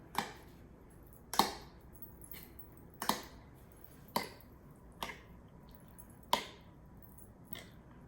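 Salsa with fresh onions and cilantro is stirred in a stone molcajete, giving a slow series of wet squelches and soft scraping knocks about a second apart, close and fairly quiet with no talk.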